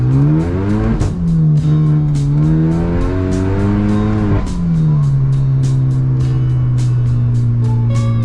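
Hyundai Genesis Coupe driven at speed with a steady loud engine drone, punctuated by a rapid series of sharp exhaust pops and crackles, strongest toward the end.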